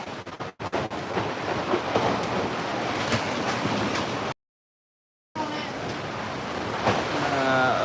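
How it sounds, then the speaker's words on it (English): A strong windstorm gust batters a tent at an Alaskan shipyard, a loud continuous roar and flapping rush that cuts out briefly midway, then returns and builds again. "It's a hell of a gust hitting right now."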